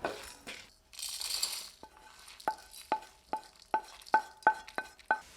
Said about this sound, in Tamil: பூண்டு பல் கடைசியாக நம்ம சேர்த்து லேசாக சூடு வர அளவுக்கு வதக்கிக்கிட்டால் போதுங்க